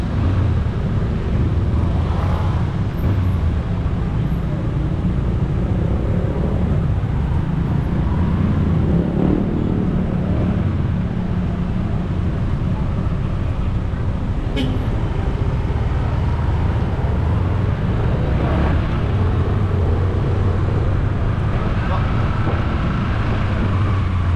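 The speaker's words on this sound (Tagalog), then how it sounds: "Grabe na ang traffic." Heavy weekend road traffic heard from inside a vehicle as a steady, loud roar of engines and road noise that continues without a break, with voices talking over it now and then.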